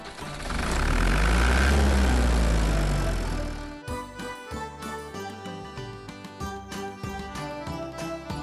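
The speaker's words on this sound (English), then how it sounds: "Tractor with potato harvester." A tractor with a potato harvester runs with a rumbling engine swell for several seconds, then gives way to light music.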